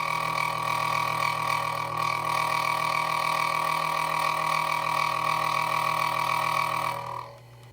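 A Proxxon FF 230 mill's end mill cuts the bandsaw-cut legs of angle brackets, making a steady, loud tonal whine with layered ringing harmonics that holds evenly for about seven seconds before spinning down and stopping.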